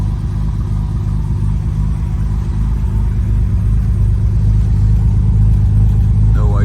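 A 1971 Jaguar XKE with an SS cam and a Borla Corsa SS exhaust idles after a cold start, giving a steady, deep, loud rumble close by.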